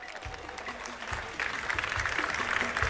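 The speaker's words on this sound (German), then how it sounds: "Klatsch, klatsch." A small crowd claps in a dense patter of hands that grows louder and fuller halfway through, with a few voices underneath.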